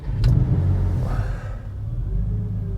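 A Porsche 912 engine turns over and catches, a close, loud low rumble that swells briefly, then settles into a steady idle; no one speaks.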